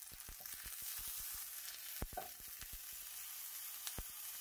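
Vegetables and dried guajillo chile sizzle faintly in a pan as a salsa base is cooked, with a steady frying hiss. Soft, regular taps of the stirring spoon run throughout, and no one speaks.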